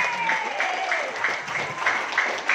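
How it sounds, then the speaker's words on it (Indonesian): An audience claps briefly at a live Indonesian stage talk show, the applause dense and moderately loud, with a voice and some tonal sound running alongside. "Berikan aplaus dong untuk Abi Nasir"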